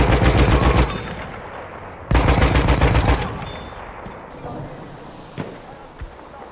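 Enemy machine gun fire in the Battlefield 1 video game: two loud, close rapid bursts, then a few isolated distant shots over fading battle noise.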